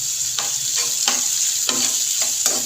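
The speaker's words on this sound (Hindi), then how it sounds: "प्याज को चॉप करके मैंने इसके अंदर डाल दिया है फ्राई होने के लिए" A finely chopped medium onion fries with cumin in a pan, a steady hiss of sizzling oil with a few sharp stirring scrapes at irregular intervals, heard up close with no speech.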